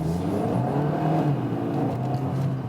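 A Kia ProCeed GT-Line 1.4 estate accelerating in sport mode, its engine note a steady, loud drone heard from inside the cabin, rising slightly in pitch with no talking.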